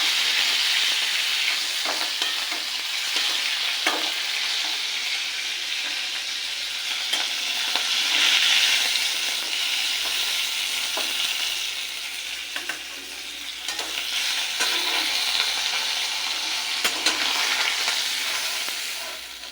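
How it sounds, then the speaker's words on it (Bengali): Hilsa fish fries in hot oil, giving a continuous close sizzle and crackle with occasional clinks of a utensil. "মাছটা ভেজে নিয়েছি, এবার তুলে নেব।"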